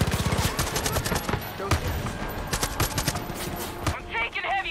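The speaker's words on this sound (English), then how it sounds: "I'm taking heavy fire." Dense gunfire from the video game Far Cry 5, with rapid machine-gun bursts and repeated shots in a loud, continuous fusillade that eases near the end, with a voice speaking over it.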